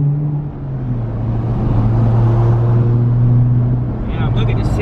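A car engine hums steadily and fairly loudly in Atlanta city traffic, its pitch shifting slightly as it runs, while voices talk over it inside the vehicle.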